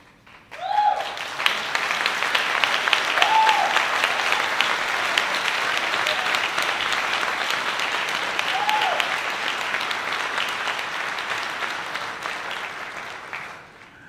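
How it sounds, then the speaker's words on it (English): Sustained applause from a gala audience at an arts complex anniversary event, a dense crowd clapping steadily for about thirteen seconds, beginning abruptly and tapering off at the end, with a few faint voices underneath. "I told you to hold your applause, but I'm glad you did that."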